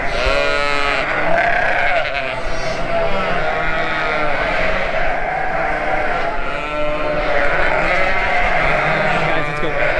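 Lambs and ewes bleat loudly and constantly in a pen, their overlapping calls crowding close to the listener for the whole stretch.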